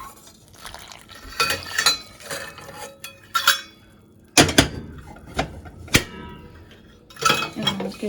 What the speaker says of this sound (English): we'll give that a good mix before we turn on the heat